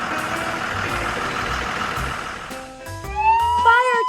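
A garbage truck engine in an educational game idles with low rumbling mechanical chugging, then a brief mechanical whine and rising tonal sounds near the end.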